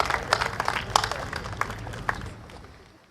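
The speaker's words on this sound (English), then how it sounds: "Can we give him another round of applause, please?" Audience applause at an outdoor Red Dot United election rally in Singapore's Holland–Bukit Timah constituency, a moderate, fairly distant patter of clapping that thins out and fades toward the end.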